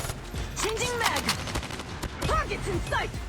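Rapid bursts of gunfire from a machine gun in the Call of Duty Mobile shooter game, repeated clattering volleys and ricochet-like whines under a voice talking throughout.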